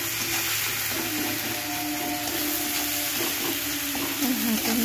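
Tomatoes frying in a pan with salt and turmeric give a steady, close sizzle with faint stirring scrapes running evenly throughout, no voices present.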